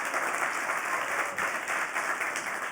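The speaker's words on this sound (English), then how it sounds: "that deserves a great round of applause" Applause from an audience at an evening eloquence event and scholarship fundraiser, a steady wash of many hands clapping, moderately distant and fairly quiet, with no talk over it.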